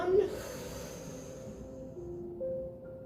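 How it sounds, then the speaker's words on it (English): A single slow exhale pushed out through the mouth during a guided breathing and movement flow, a soft close breathy rush over a faint steady tonal hum. "We inhale and exhale through the mouth"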